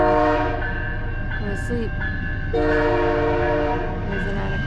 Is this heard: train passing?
yes